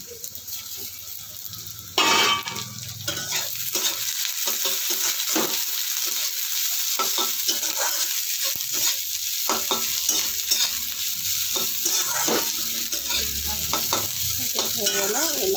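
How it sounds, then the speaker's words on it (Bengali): Sliced okra (bhindi) sizzles in a pan while a spatula stirs and scrapes it in repeated strokes, with a steady frying hiss throughout and a louder burst near the start. "ভেজে দিলাম।"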